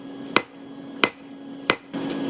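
Hammer blows forging a piece of rebar into a knife blade, three sharp metallic strikes spaced about two-thirds of a second apart over a steady background hum, close and loud.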